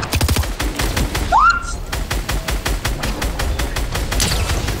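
Rapid automatic gunfire from the video game Fortnite rattles in dense, continuous bursts for the whole span, loud and close, with a brief rising electronic whine partway through and occasional faint voice underneath.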